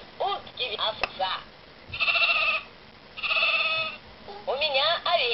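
A voice imitates a sheep, giving several drawn-out bleats separated by short pauses, with a bit of talk at the start and end.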